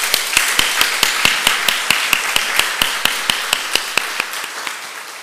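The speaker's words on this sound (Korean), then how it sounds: "우리 박수 한번 합시다." A church congregation applauds after a sermon, a steady run of sharp, evenly spaced claps in a reverberant hall, fairly loud and without voices.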